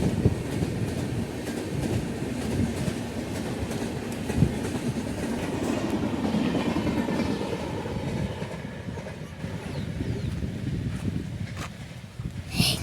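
A train rumbles across the old British-built railway bridge at Malampuzha, a loud continuous roar of rolling wagons with rhythmic wheel clatter that stays steady, then eases slightly near the end.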